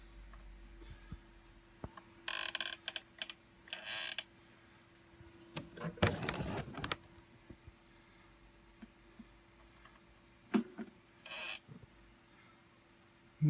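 Spitfire landing gear retracting in the Cliffs of Dover flight game, heard as a series of mechanical clunks, creaks and brief whirring bursts spread over several seconds, with a louder rattling stretch in the middle against a faint steady hum.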